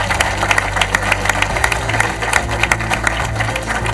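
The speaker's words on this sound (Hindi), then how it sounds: "इन दोनों बंधुओं के लिए शानदार तालियां बजना चाहिए दोस्तों" An audience applauds two child performers at a televised quiz show final, a dense sustained clapping over a low steady hum of music.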